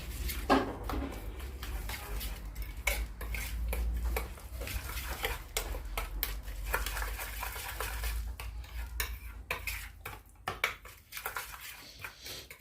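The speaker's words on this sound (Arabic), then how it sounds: "نقلب الخليط الجميل ده مع بعض كده" A spoon scrapes and clinks against a bowl while fish batter with ginger and lemon juice is stirred, giving irregular close taps and knocks over a low background rumble.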